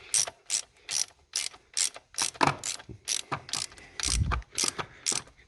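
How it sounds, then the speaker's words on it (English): A hand ratchet tightens clamps on parts from a donor car, producing a loud close series of about a dozen rapid clicking bursts in an uneven rhythm. "just gonna tighten up the securing, or the clamps"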